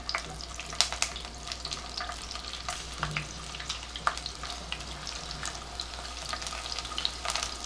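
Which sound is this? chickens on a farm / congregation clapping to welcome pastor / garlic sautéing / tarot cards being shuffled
garlic sautéing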